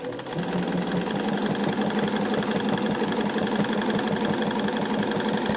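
A sewing machine hums in a fast, even mechanical rhythm during free-motion quilting, running continuously and loudly up close for several seconds without pause or voices.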